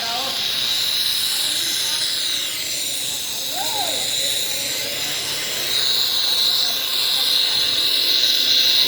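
Ghazipur City railway station ambience: a loud, steady wash of hissing, rumbling noise with a continuous high drone, constant throughout.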